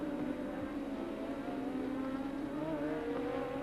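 A Formula 1 car on a qualifying lap at the 1986 Hungarian Grand Prix, a steady high engine whine held at a moderate distance throughout with little change in pitch.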